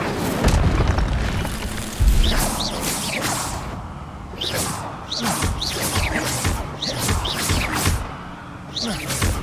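Fiery spell blasts from a Hogwarts Legacy game: deep booming bursts with whooshing flares, several crackling impacts in quick succession over continuous battle noise, loud and close.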